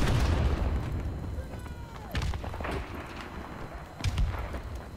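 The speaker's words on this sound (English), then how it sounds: "with the grenade exploding in someone's face" Grenade going off in Call of Duty: Modern Warfare (2007) multiplayer, a loud boom at the start trailing into rumbling decay, then a few sharper crack-like bursts follow within seconds.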